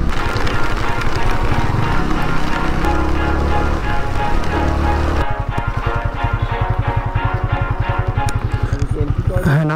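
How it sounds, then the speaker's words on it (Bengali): Rain pelts down during a motorcycle ride on the hilly road from Bandarban to Thanchi, a steady wash of drops under loud engine rumble that changes to a pulsing, rhythmic drone partway through. "এখন বৃষ্টির মধ্যে দিয়ে রাইড করতেছি"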